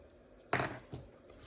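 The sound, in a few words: scissors cutting leftover yarn ends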